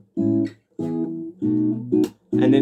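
Acoustic guitar chords from a song, five strummed chords in a steady sequence, each ringing about half a second before a short gap, played alone and close.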